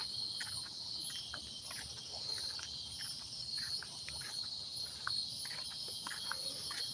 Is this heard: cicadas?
yes